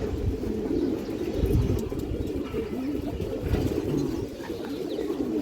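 Several pigeons coo steadily and close by in a loft of fancy breeds, with soft overlapping calls and occasional faint chirps and wing rustles, with no talking.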